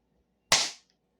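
Homemade mini muzzle loader built from a tire valve, fired with a pellet and no gunpowder: a single sharp, loud crack that snaps and decays within a quarter second, alone against silence.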